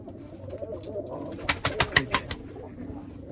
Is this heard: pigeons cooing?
yes